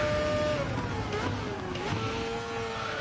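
Racing video game car engine revving loud and steady with rising and falling pitch as it downshifts, continuous throughout with no talk.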